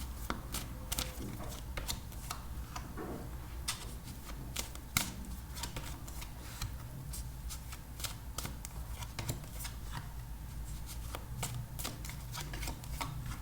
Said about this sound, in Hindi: 7 days ऑफ द वीक के लिए हम निकालेंगे 7 टैरो कार्ड्स।